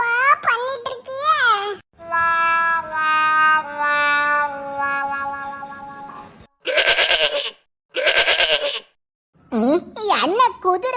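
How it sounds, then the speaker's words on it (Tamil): A cartoon horse bleats like a sheep in long, wavering, quavering cries, loud and close, broken by short pauses, with a burst of talk at the start and end. "என்ன குதிரை செம்மறி ஆடு மாதிரி சத்தம் போடுது?"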